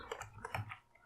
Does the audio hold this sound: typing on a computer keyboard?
yes